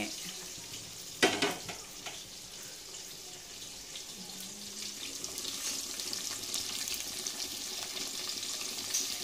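Curry leaves and onions frying in hot oil for a home-style chicken curry, a steady close sizzle running throughout with one sharp spatter burst near the start.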